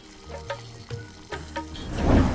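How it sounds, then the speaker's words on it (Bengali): Spoon stirring kul (jujube) pickle with tamarind in a hot pan, soft scraping strokes over a low sizzle that swells toward the end, close and moderately quiet, with no talk. "পোড়া এড়াতে আপনাকে ক্রমাগত নাড়তে হবে।"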